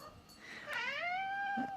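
A Maine Coon cat gives a single drawn-out, rising-then-falling meow indoors, faint and close, following a brief softer sound.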